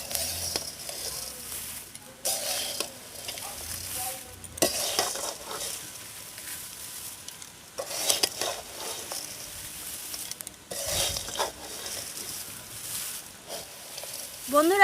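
Flattened rice (chira) stirred and fried over low heat in a pan, a soft dry scraping and rustling churn that comes in repeated bursts with brief pauses between strokes, no voices over it.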